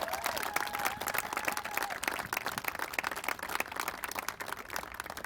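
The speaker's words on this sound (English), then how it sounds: "Can we give Representative a round of applause for her work?" An audience at a national day of awareness ceremony for murdered and missing Indigenous women and girls applauds a state representative with steady, sustained clapping from many hands at moderate volume, unbroken throughout.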